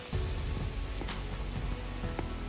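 Steady, dense rain patters close by near a waterfall in the Ain countryside during exceptionally wet weather, a continuous hiss with a low rushing bed beneath.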